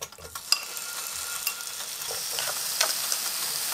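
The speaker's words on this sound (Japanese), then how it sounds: "エビとピーマンを炒めていきます。" Shrimp and thin strips of green pepper stir-frying in olive oil on a hot plate, giving a constant bright sizzle with light scraping taps of a utensil, close up and without voices.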